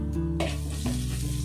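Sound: chilli garlic Maggi ingredients sizzling while frying in a pan

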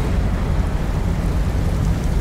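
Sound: rain falling outside in God of War video game

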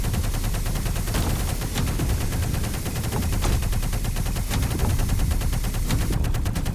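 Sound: gunfire in the VR Invaders video game

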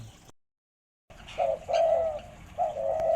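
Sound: dove cooing

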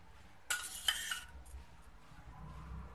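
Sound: pineapple puree being added to a kadai

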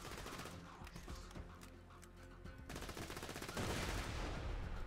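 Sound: rapid gunfire from a gun in the video game Borderlands 2

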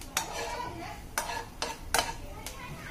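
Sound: desiccated coconut frying and being stirred in desi ghee

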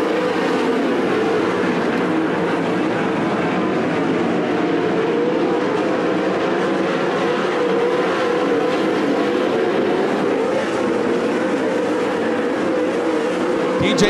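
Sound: 410 sprint cars racing at Attica Raceway Park

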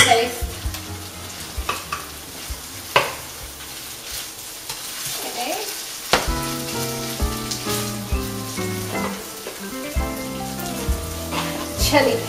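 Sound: beef mixture with tomato paste frying and stirring

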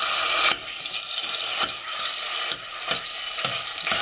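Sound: onions and tomato paste frying in a pan

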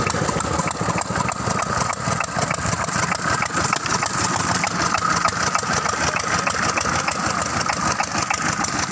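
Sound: Petter engine running a cement block mixer

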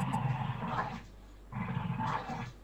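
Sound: dog barking or growling

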